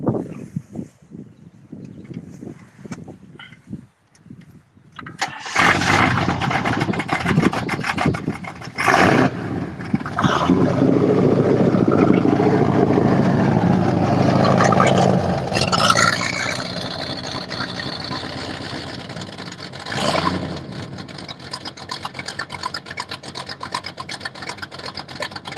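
A 1969 Shelby muscle car, an ex-Hertz rental with a special exhaust system, cranks and fires up. A loud, deep engine roar follows and settles into a rumbling idle, heard close by.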